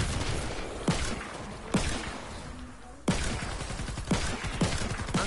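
Machine gun fire in a video game: sharp, punchy shots spaced unevenly over a dense rumbling background, several strong reports standing out nearby.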